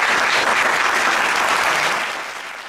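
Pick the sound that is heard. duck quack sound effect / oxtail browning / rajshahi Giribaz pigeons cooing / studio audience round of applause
studio audience round of applause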